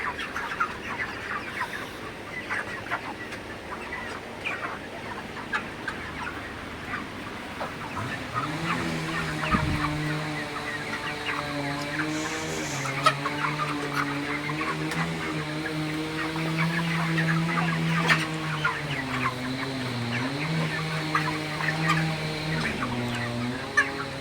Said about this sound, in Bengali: আপনারা দেখতে পাচ্ছেন মুরগিগুলা সব ভালো আছে সুস্থ আছে